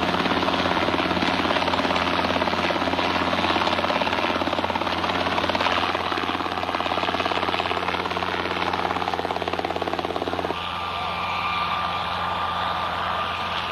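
A helicopter flies at the 1989 world helicopter championship in Chantilly, producing a loud, steady rotor and engine roar that fills the whole clip and shifts slightly in tone near the end.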